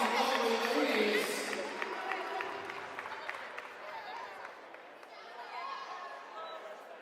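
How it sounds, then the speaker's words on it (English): Applause and crowd noise from the audience at a collegiate powerlifting meet for a women's team, loudest at the start and then thinning into scattered claps and chatter. "Give a round of applause to these lovely ladies."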